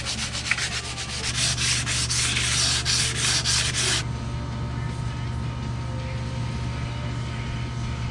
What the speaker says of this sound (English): I'm gonna clean this guide up, get this rust off of it